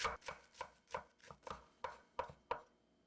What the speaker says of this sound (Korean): 먼저 파를 송송 썰어줍니다.